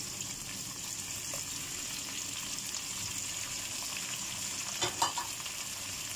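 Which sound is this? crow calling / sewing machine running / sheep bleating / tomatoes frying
tomatoes frying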